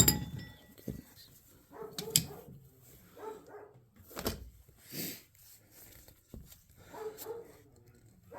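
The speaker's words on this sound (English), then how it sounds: "Dog bark." A dog barks in a few separate bursts near a tractor being serviced, with clinks of tools and metal parts between the barks.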